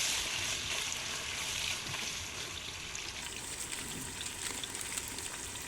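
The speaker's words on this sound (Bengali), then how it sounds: "মাংসের টুকরোগুলো আমি আরো কিছুক্ষণ এগুলো ভেজে নেব" Marinated chicken pieces frying in a pan for biryani, a steady broad hiss and crackle of hot oil at moderate level, continuous throughout with no talk.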